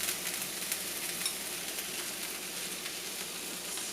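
Zucchini and tomatoes sizzle steadily in a hot pan as they are stirred, a continuous bright frying hiss with small crackles and soft scrapes throughout, close and fairly loud with no talking.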